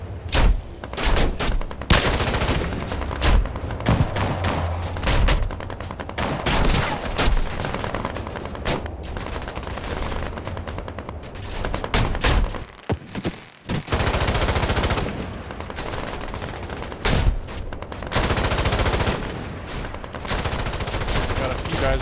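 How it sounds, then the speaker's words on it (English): Infantry firefight in a combat video game, with dense rapid gunfire, including machine gun bursts and scattered single shots, sustained almost continuously and loud, with brief lulls. "this is where they're going to have their firefight"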